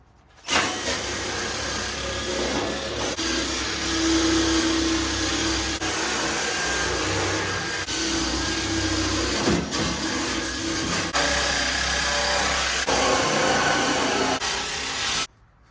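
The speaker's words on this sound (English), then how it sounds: "guess we'll clean it all up with a wire wheel as best we can and see what happens" A power tool with a wire wheel cleaning a Toyota gas tank, a loud, continuous close whine and grinding rasp that runs steadily for about fifteen seconds with small shifts in pitch before cutting off.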